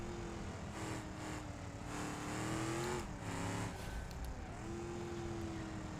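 A car engine in the BeamNG driving game held near redline during a time trial, a continuous high-revving drone with small pitch dips that could be shifts, steady and loud, with no voices.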